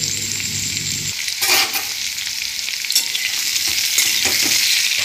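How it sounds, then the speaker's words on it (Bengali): Pumpkin and potato pieces fry in hot oil in a pan, a loud steady sizzle with a few scrapes and stirring bumps as the vegetables are turned. "আমি কুমড়ো দিয়ে আলু দিয়ে একটু লাল লাল করে ভেজে তারপর এটা কষিয়ে একটু নিয়ে"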